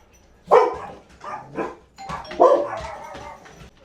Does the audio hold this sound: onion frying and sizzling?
no